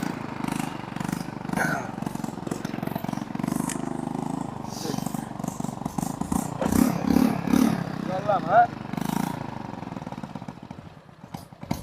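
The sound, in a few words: motorcycle engine running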